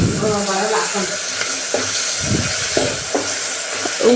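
A tempering for chitranna spitting and sizzling loudly in a hot pan, a dense continuous crackle with a few sharper pops, and a person talking over it at the start.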